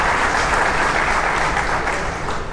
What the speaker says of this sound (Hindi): उनके लिए जरूर तालियां बजाइए।